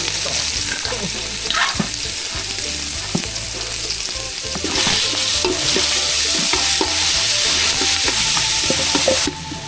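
Ingredients for papaya curry with pork are stir-fried in a hot pot, giving a continuous close sizzle with repeated scraping and clattering of a utensil against the pot. No one speaks.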